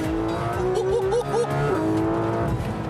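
A stiff race car driven hard on a track in a Fifth Gear test. The engine howls steadily with some tyre noise, then the pitch drops sharply at a crisp upshift and the engine pulls on.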